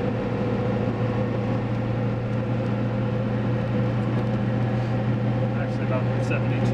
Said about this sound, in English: This truck is inherently loud to begin with, so the tire noise is just another log on the fire